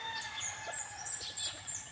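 Roosters at a gamefarm calling outdoors, with overlapping crows and clucks from several birds at varying distances, steady and fairly loud throughout.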